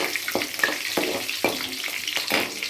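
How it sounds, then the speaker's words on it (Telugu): Green chillies fry in hot oil in a pan, a bright continuous sizzle broken by several sharp scraping stirs of a spoon at roughly even intervals, close and without talk. "ఒక రెండు పచ్చిమిర్చి మాత్రమే వేసుకుంటున్నాను దీని ఒకసారి కలిపి"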